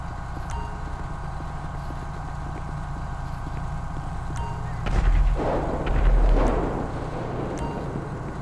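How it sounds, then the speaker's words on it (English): A Grand Theft Auto V explosion, heard during an LSPDFR police patrol, rises as a muffled low boom and rumble midway, under a steady engine-like drone throughout. "I don't know what that explosion was."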